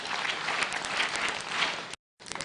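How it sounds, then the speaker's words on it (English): An audience claps for the board members at a Starehe Girls Centre celebration honouring its founding trustees; dense, steady applause fills the room for about two seconds, then stops abruptly before a short burst resumes. "And we clap for our members of board."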